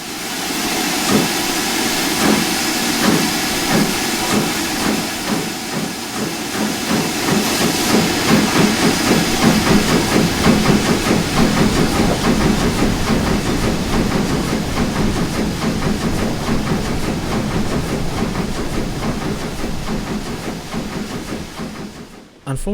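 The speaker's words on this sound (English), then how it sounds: "As for the chuff sounds, I reckon these are pretty good for an add-on this old." Steady rhythmic chuffing of an LNER J50 steam locomotive in Train Simulator with constant hissing steam, loud and continuous, fading out abruptly at the end.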